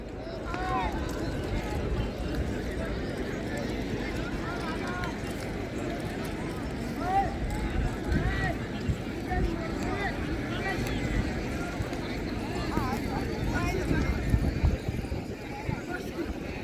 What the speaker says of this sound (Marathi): सर्व बैल पडायला चालले